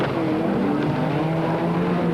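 Heavy racing super truck engines roar continuously at a 1997 Super Series circuit race, a loud sustained drone with shifting engine pitch as the trucks battle on track.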